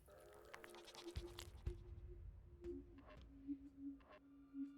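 Goat bleating from the video game Sally Face: a few short, wavering bleats near the end, following a rustling, clattering stretch of game sound.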